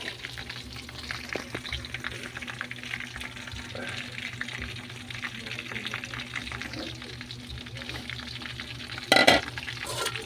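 Chicken pieces frying in a pan at home, a continuous close sizzle and crackle of hot oil with occasional stirring and utensil clinks, a sharp clatter near the end.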